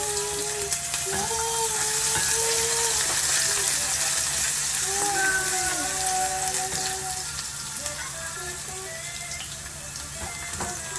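Garlic sizzles in hot oil with dried red chilli, cloves, cinnamon and kasuri methi for aloo matar, a loud continuous frying hiss with faint clinks of stirring and tonal background sounds.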